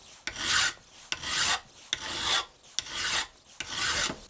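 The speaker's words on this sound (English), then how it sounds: "We'll grind it all nice and smooth and file it smooth" Rhythmic rasping of a file smoothing a metal lamp bracket, five steady back-and-forth passes, close and clear with no talking.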